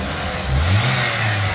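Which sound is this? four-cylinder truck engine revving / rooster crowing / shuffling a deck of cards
four-cylinder truck engine revving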